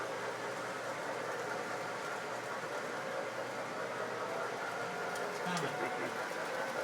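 A steam train runs with a steady, even hiss and low rumble that holds throughout at moderate distance, and a faint voice is briefly audible near the end.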